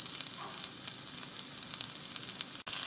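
Meatballs fry in a pan with a steady, fine crackling sizzle close by, popping lightly throughout, and a brief clunk near the end as they are turned; no one speaks.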